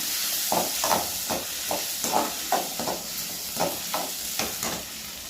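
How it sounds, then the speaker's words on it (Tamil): Tomatoes frying in a pan for chicken gravy, stirred in an even rhythm of scraping strokes about twice a second over a loud, steady hiss and sizzle, close up with no talking. "தக்காளியை நல்லா கிண்டிக்கோங்க"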